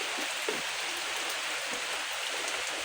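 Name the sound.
rain falling all day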